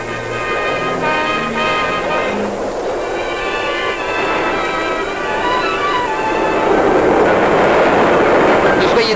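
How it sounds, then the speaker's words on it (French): A French SNCF train passes on the line, giving a loud continuous rumble with rattling wheel noise and a rising roar toward the end, close by. "n'entendez-vous pas le train croiseur?"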